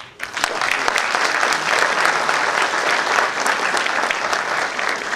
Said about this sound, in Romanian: vă mai aplaudăm o dată